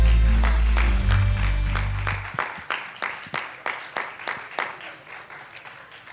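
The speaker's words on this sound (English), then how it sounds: "let's go ahead and do a round of applause to invite those in the lobby to come back in and join us" A small lecture audience at AHS claps slowly and sparsely, about a dozen distinct, evenly spaced claps ringing in a room. A loud low rumble fills the first two seconds, and no one speaks.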